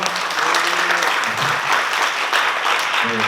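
Steady, dense applause from a seated audience at an agricultural symposium hall, filling the whole stretch at an even level with faint voices murmuring underneath.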